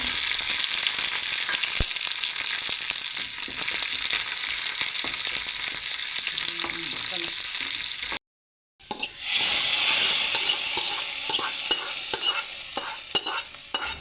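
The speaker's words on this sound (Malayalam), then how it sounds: "ഇനി ഇതിലേക്ക് കുറച്ച് ഉലുവായും കറിവേപ്പിലയും ചെറിയുള്ളി ഇട്ട് കൊടുക്കാം" Steady crackling sizzle of fenugreek, curry leaves and shallots frying in hot oil for fish curry, with stirring and scraping clinks, a brief gap midway, then the sizzle resumes louder.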